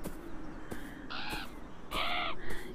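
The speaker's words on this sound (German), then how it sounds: "diese blöde Krähe, diesen Raben, was auch immer das ist" A crow or raven in the Beyond Eyes game caws a few times, harsh rasping calls close by, with sharp clicks between them and no speech.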